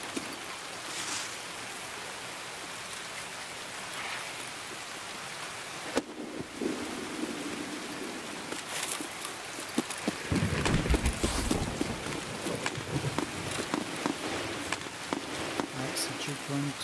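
Video game rain falls in a steady hiss throughout, with a low thunder rumble rising in the latter half and scattered clopping, clicking and movement sounds over it.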